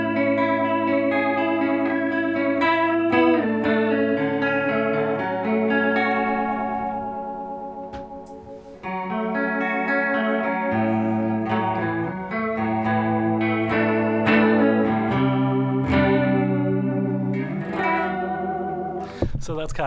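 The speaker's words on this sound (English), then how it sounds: "so that's kind of like the chorus sound." An electric guitar run through an EarthQuaker Devices Aurelius chorus pedal in vibrato mode, with steady chords and picked notes wavering in pitch for about twenty seconds, moderately loud and close, with a brief dip partway through.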